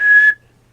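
A voice imitates a child's whistle with one short, clear, steady high whistle that cuts off abruptly.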